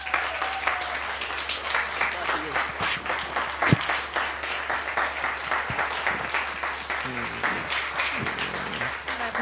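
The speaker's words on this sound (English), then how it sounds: "one more round of applause." Sustained audience applause fills a Sunday celebration service at a church, with steady, dense clapping from a large congregation, a few louder claps standing out, and a low electrical hum underneath throughout.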